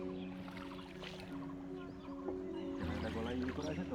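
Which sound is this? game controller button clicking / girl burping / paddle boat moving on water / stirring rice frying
paddle boat moving on water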